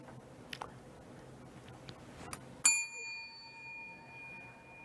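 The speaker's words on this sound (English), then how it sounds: "hitting the bell in the same way that you'd hit a bell in a quiz show to indicate that you want to move on to the next question" A single sharp ding from a quiz-show style desk bell, struck once and left ringing with a clear, lingering metallic tone after faint background murmur.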